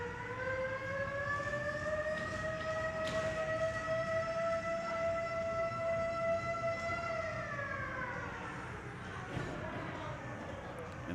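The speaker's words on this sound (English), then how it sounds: "And the 11th time we hear that siren." A goal siren at a Tier 1 lacrosse game wails as a long steady rising tone that holds for several seconds before winding down, loud over arena crowd noise.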